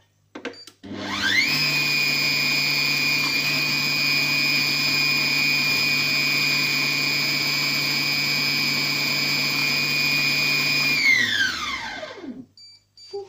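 A Compact Cook Pro food processor whirs loudly as it chops, starting abruptly and holding a steady, high-pitched motor whine for about ten seconds before spinning down to a stop.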